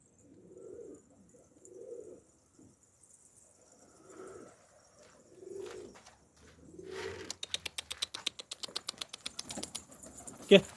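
A pigeon in a coop gives several soft, low coos in a row, followed by a quick run of light tapping clicks near the end.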